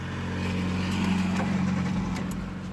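A Hyundai i10 fitted with an LPG conversion idles steadily after starting, a close, even engine hum with a low rumble that holds throughout without revving.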